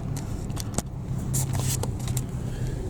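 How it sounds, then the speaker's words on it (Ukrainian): A car pulls away outdoors near water where a boat prepares to anchor, its engine a low steady rumble under scattered clicks and knocks nearby, moderately loud and continuous for a few seconds. "Опа, машинка уїжджає."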